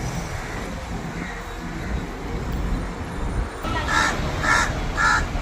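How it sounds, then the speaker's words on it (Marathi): Crow cawing on a Mumbai street near a bus stop, three loud evenly spaced caws toward the end over steady traffic rumble. "ते कावळा काव काव करतो"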